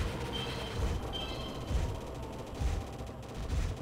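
Dense, continuous gunfire and explosions from the Progear arcade shoot-'em-up, a loud steady barrage of rapid shots filling the whole stretch with no talking.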